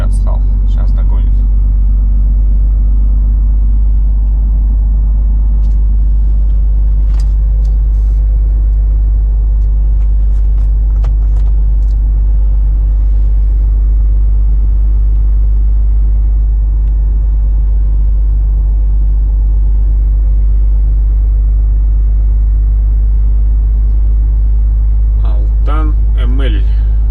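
Car rolling slowly along a road, a loud steady low rumble of the engine and tires heard from inside the vehicle, with a few faint clicks and brief voices near the end.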